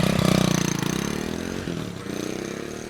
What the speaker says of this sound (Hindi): मैंने बाइक शुरू की, जीपीएस लगाया और निकल गया ऑफिस के लिए।